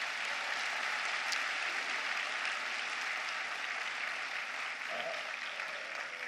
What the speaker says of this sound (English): Give Neha a big round of applause once again.